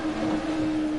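A rally car engine in the DiRT Rally 2.0 video game revs at the start, holding a steady, loud droning hum at a constant pitch for a short moment, with no talk.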